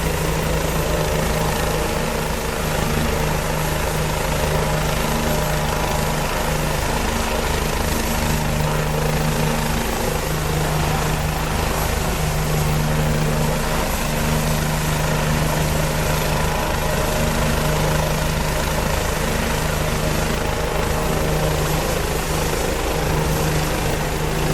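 A Bell 429 helicopter's engine and rotor in the flight simulator X-Plane 11 give a loud, continuous droning whine with a steady low throb, running unbroken and at an even level throughout.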